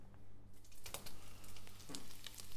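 Bacon sizzling and crackling in a frying pan, a steady hiss with a few sharper pops, close up.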